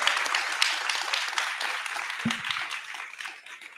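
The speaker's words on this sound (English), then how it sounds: "A round of applause, please." An audience at a live panel gives sustained applause, a dense even wash of clapping that slowly fades, with a brief low thump partway through.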